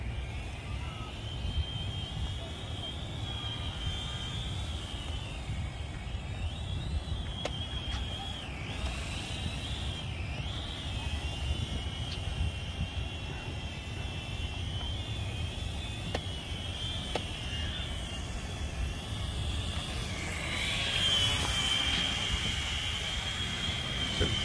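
An Ascend Aeronautics ASC-2450 drone hovers in flight with a steady, high-pitched whine of spinning rotors, a continuous even drone that rises slightly louder near the end, with no talk over it.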